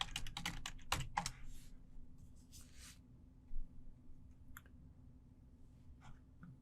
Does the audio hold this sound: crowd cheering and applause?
no